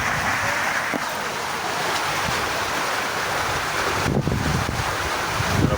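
Floodwater surging past a culvert blocked on one side during flash flooding in Harper, Maryland, a steady loud rushing roar with gusty wind buffeting the microphone throughout.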